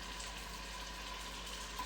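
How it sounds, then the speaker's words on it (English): Steady, continuous sizzling of chicken adobo frying in a Dutch oven, a constant crackling hiss close up with no talking. "Ooh, hear that sizzle."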